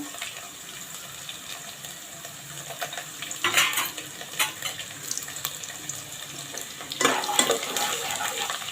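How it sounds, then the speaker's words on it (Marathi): Finely chopped garlic frying in hot oil with cumin over low heat, a faint crackling sizzle with a few louder bursts of clatter and stirring against the pan, no voices. "लसूणची फोडणी देत आहोत आपण आता हे चांगली लसूण जरा तेलावर परतून घेऊया"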